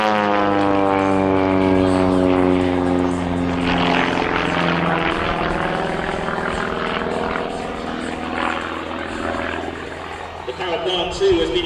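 A Pitts S1D biplane with a 180 horsepower Lycoming O-360 engine performs aerobatics including a stall turn, its loud engine drone sweeping steadily in pitch as power and speed change, heard continuously and close.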